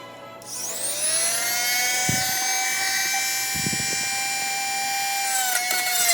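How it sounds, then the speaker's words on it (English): A small powered rotary hand tool spins up to a high, steady whine and cuts through wooden dowel rods, with short grinding bursts as the bit meets the wood, close and fairly loud. "I just used my powered hand tool and just got my dowel rods cut down."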